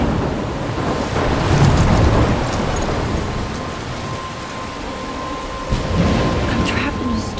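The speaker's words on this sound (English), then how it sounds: "I'm trapped in a storm?" Thunderstorm with steady heavy rain in the Life is Strange game, a continuous broadband roar of rainfall with low rumbling thunder swelling throughout and a sharper crack near the end.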